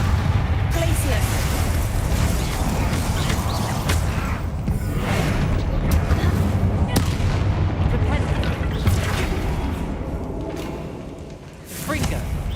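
Explosive spells cast in the Hogwarts Legacy video game, a dense run of loud blasts and booming impacts over a continuous rumble, with a voice repeatedly calling out spell names over the combat.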